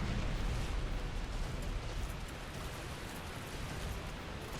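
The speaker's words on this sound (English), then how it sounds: "It's going to breathe fire straight down again" Black Dragon Kalameet breathes fire in Dark Souls Remastered, a dense, loud roaring rush of flame that holds steady throughout.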